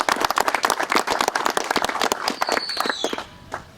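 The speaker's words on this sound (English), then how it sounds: "Let's give them all a round of applause." Applause at an outdoor ceremony honoring high school seniors at the Congers Lake walkway, with crisp, fairly close clapping from a modest crowd that thins out and fades near the end.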